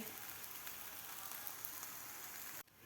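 Soybean and nachni (finger millet) thalipeeth flatbread roasting on a hot pan gives a steady, close, even sizzle that holds for a few seconds, then cuts off sharply and resumes more quietly.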